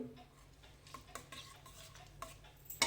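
Soaked, drained basmati rice stirred in coconut water in a pot, soft scraping and clinking of a spoon in irregular strokes, quiet and close with no talk.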